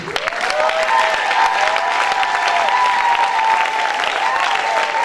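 A church congregation applauds and acclaims at a worship service, a loud continuous wash of clapping mixed with raised cheering voices and long sustained shouts, close and unbroken throughout.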